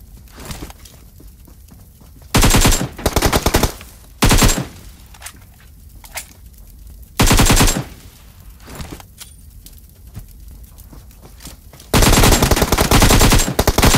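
Automatic gunfire in the battle royale video game BGMI during a solo match, several loud bursts of rapid shots separated by quieter gaps, with a long sustained burst at the end.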